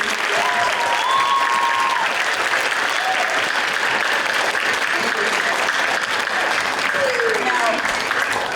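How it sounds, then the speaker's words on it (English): Audience at a fifth grade band concert gives the young players another round of applause, sustained, dense clapping at steady loudness with cheers and voices mixed in throughout. "Can we all have another round of applause for them?"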